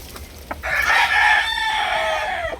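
A one-year-old Kelso gamefowl rooster in a backyard setting gives a single loud, close crow lasting about two seconds, with a few faint clucks just before it.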